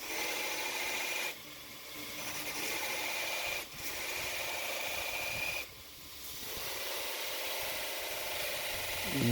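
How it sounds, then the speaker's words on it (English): Hand file drawn repeatedly across the steel shoulders of a Damascus chef knife, a steady harsh rasping in long strokes with brief pauses between them, close and fairly quiet. "I like to hit them with a file just to get them a nice and crisp"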